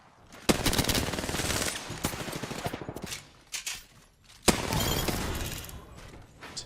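Rapid gunfire in an online shooter game, bursts of automatic fire and sharp single shots coming close and loud, with a few brief pauses between volleys.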